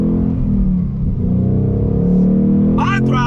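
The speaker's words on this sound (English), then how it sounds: "But listen to that V8 sound." 2021 Ford Mustang Mach 1 V8 engine rumbling loudly from inside the car, a steady deep throbbing idle that swells slightly as it revs, with a brief voice near the end.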